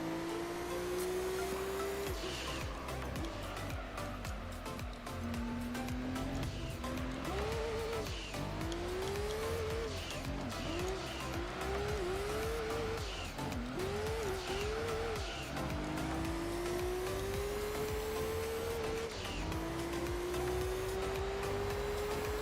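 Race car engine in Gran Turismo 3 revving hard at high RPM, its pitch climbing and dropping through rapid gear changes and throttle blips, loud and continuous with faint tire noise.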